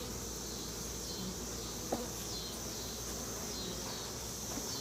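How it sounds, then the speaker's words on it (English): Honey bees swarm over the comb of a shallow frame lifted from a hive outdoors, giving a steady, moderately faint drone throughout with a brief tap midway. "And you can see there are a lot of bees working on the honeycomb."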